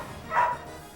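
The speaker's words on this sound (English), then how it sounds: "What's she barking about, Nima, huh?" A dog gives a single short bark at home, fairly close and clear against a quiet background.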